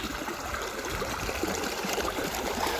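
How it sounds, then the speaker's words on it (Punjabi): Water pouring from underground irrigation pipes into a farm field with a motor-driven pump, a steady broadband rush and trickle running continuously and evenly at close range with no voices. "ਆਪਣੇ ਅੰਡਰਗਰਾਉਂਡ ਪੈਪਾਂ ਆ ਜਿਨ੍ਹਾਂ ਦੇ ਵਿੱਚੋਂ ਪਾਣੀ ਆ ਰਿਹਾ ਆ"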